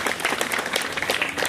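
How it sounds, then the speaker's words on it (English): An audience claps at the Duane Eddy dedication ceremony in Corning, NY, a brief burst of lively, close applause with distinct hand claps. "Let's clap for Dee again."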